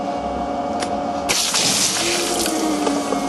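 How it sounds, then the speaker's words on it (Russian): A pump draining a frame pool pushes water out through a garden hose onto a potato patch, a steady close rush of flowing water that surges louder partway through and continues alone. "Вот вода пошла с хорошим напором на полив картофеля."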